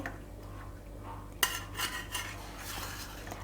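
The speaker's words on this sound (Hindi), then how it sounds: "फ्लैट चम्मच की सहायता से हम ढोकला को ऐसे ऊपर कर लेंगे।" Cut semolina dhokla pieces lifted with a flat spoon, giving a sharp metallic clink on the plate followed by a few softer scraping taps, close and fairly quiet over a low steady hum.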